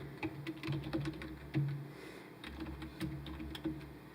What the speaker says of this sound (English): And typing in my phone number